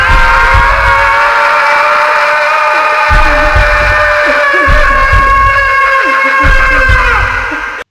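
Max Payne lets out a long, sustained scream while falling through the nightmare level of the game, loud and close, holding steady before trailing off at the end over faint dull thumps.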